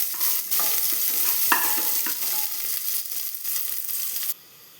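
Coconut pieces and chopped shallots fry in a pan for kalathappam, a steady close sizzle broken by the scrape and clatter of stirring, alone until it drops away near the end.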